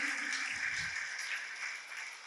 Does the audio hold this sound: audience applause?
yes